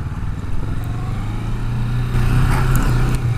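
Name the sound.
Kawasaki Vulcan S motorcycle engine during test ride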